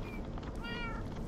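A cat meows in the Minecraft video game, a short drawn-out call heard clearly over a steady background of game ambience.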